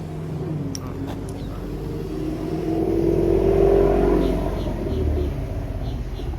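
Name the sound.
Ford Mustang car driving nearby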